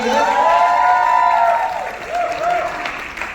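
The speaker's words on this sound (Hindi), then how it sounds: "जोरदार तालियां हो जाए दीना और रॉकी के लिए" A studio audience at a Hindi reality show launch bursts into loud applause and cheering, with sustained whoops riding over the clapping before it eases slightly.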